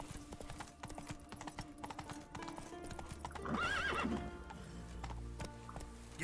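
Horse hooves clip-clop at a gallop in The Witcher 3, rhythmic thuds with a clear neigh partway through over game ambience.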